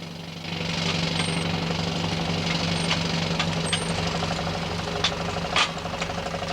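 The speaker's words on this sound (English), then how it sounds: "Some friends and I put this lovely old steam engine in a shed in our garden." An old wood-fired steam engine housed in a garden shed runs with a steady low hum and rhythmic knocking, plus faint hisses and a few clanks, close and without voices.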